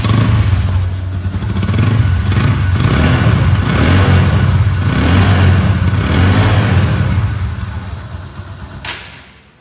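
A 2024 Apache RTR 160 cc motorcycle engine starting and running, a loud close rumble that rises and falls with revving, then cuts off near the end.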